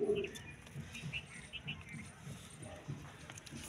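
Soft cooing from breeding pigeons sounds faintly in the background, partly under someone talking nearby in Urdu.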